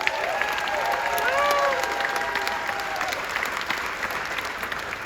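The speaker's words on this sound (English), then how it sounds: "Let's give it a round of applause" Audience applause following a film screening at a festival, steady crowd clapping at moderate level with a few faint cheers and whistles rising briefly near the start, sustained without a break.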